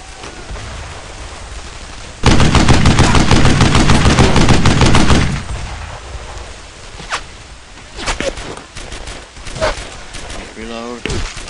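Sustained automatic gunfire from Brothers In Arms: Earned in Blood, a WWII shooter, roars loudly for about three seconds. Scattered sharper shots and clatter follow, with voices calling out in between.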